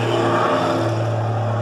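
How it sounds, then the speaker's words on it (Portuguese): A truck rolls past on a nearby road, its engine a steady low drone with a tonal hum and tyre rush holding level throughout, with no voices. "Passou mais um caminhão"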